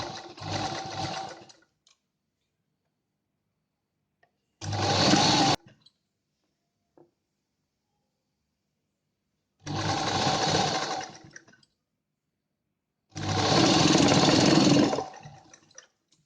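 A sewing machine runs in four separate bursts while stitching doubled extra fabric for an A-line collar jacket dress, each run lasting about a second and separated by silent pauses.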